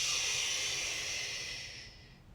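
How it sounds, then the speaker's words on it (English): One long, steady breath is pushed out during a fire-themed flow breathing exercise, a close, breathy hiss that slowly tapers away over about two seconds with no speech. "Exhale everything out."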